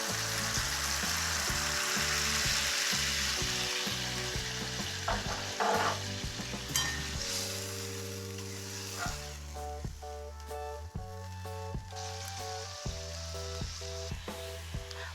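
Steady sizzling of spices frying in hot oil for soybean muithya, with stirring and scraping, a bright hiss over a low kitchen hum, close and with no talk.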